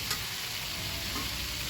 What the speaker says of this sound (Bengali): ঢাকা দিয়ে দিয়ে কিছুক্ষণ সময় আলুগুলো ভেজে নেব